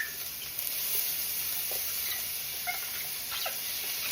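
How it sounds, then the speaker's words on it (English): Onions sizzle in a frying pan, a steady bright crackling hiss with a few small pops and spits, close and alone without talk. "we're gonna get our onions into our pan. Get some of that sizzle."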